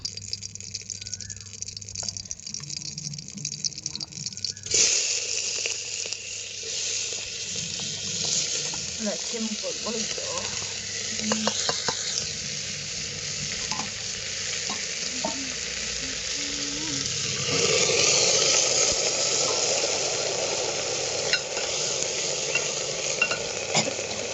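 Cumin seeds sizzle in hot oil in a pan and are stirred, a quiet start giving way to a steady frying crackle with spoon scrapes that grows louder toward the end.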